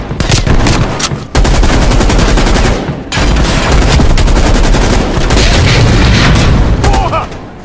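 Loud, sustained rapid-fire gunfire from a helicopter with heavy booms in Call of Duty: Black Ops Cold War, rattling continuously with brief pauses, like automatic weapons in an intense game battle.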